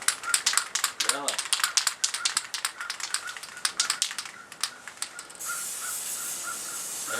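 A can of coating shaken hard for a survival stove project, the mixing ball rattling in a fast, loud, steady series of clacks up close, then giving way to a broad hiss of spraying near the end.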